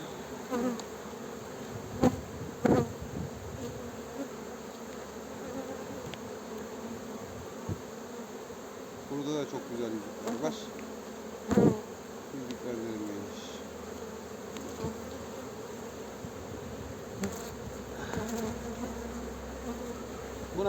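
A dense, continuous buzz of many agitated, queenless honeybees hums close by at an opened hive, with a few louder individual bees zipping past the microphone now and then.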